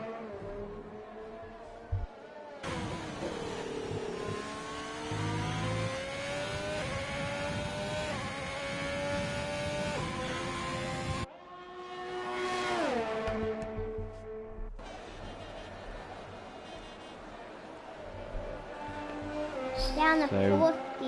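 A Formula race car in a PS4 racing game at the Italy round, engine screaming and revving with shifts and pitch drops, running loud under commentary.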